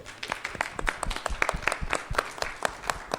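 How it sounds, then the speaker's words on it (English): An audience at a panel discussion applauds, a dense, steady patter of many hands clapping at moderate loudness for the whole stretch, with no voices over it. "Please, round of applause."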